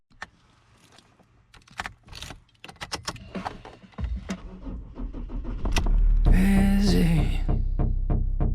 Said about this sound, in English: I might just hop in the van, take a bit of a drive, and go see Bowen